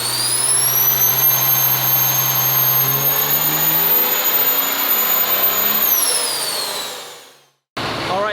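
A 2006 Mega Cab truck with a turbocharged Comp 3 build roars on a dyno with the fuel turned up, a loud sustained engine howl with a high turbo whine that winds down and briefly cuts out before resuming.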